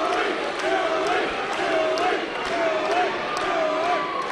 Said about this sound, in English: there's a heck of a lot of people cheering for DJ